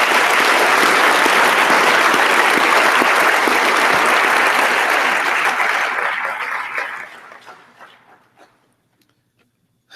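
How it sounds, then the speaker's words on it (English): Large graduation ceremony audience applauding, loud sustained clapping for about seven seconds that fades away to scattered claps and silence. "So let's give them also a warm round of applause."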